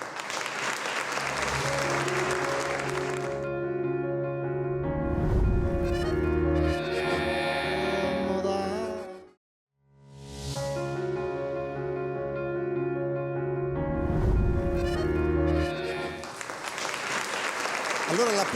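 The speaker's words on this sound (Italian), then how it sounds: "l'applauso scandisce praticamente l'apertura e chiusura di ogni parte, di ogni blocco" Audience applause at a traditional Campidano show, with two long sustained bursts of clapping separated by a brief pause near the middle, and tonal voices or music layered over the clapping.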